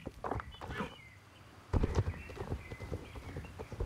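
Horse hooves clopping in Star Stable Online as a rider moves along, a quick close rhythm of steps that keeps going steadily throughout.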